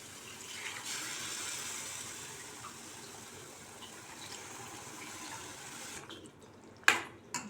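Tamarind water is poured into a simmering garlic curry, making a continuous liquid pour that runs steady for several seconds before a sharp clink of utensils.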